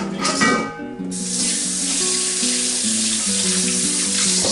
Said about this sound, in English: Give it a rinse